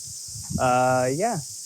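Cicadas drone steadily at a high pitch throughout, outdoors at a park in New Zealand's North Island, while a brief voiced, gliding call rises over them midway.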